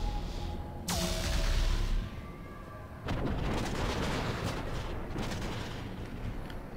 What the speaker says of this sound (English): So a dreadnought explosion launches me into the wall with a shockwave